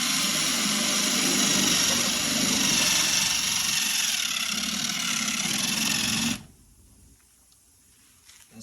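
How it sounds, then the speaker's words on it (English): A loud, steady high-pitched power drill whines continuously up close, drilling out a rivet on a car door panel, for several seconds, then cuts off abruptly, leaving faint background hum. "let's drill this rivet out and see if we can get this door panel on"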